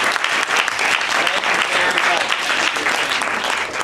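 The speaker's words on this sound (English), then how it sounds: "So please give Representative Terry a round of applause" An audience at Harwich High School gives Representative Jeff Perry a round of applause, a thick, sustained roar of clapping from many hands at close, loud, even level across the whole stretch.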